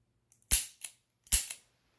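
Dry-fire trigger pulls of an unloaded Taurus 856 Executive Series revolver, two sharp metallic clicks each followed by a softer snap, close and crisp against near silence.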